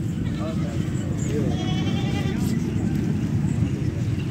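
A milking goat bleats at a livestock market in Faisalabad, its wavering calls loud and close over the steady crowd and traffic noise of the market.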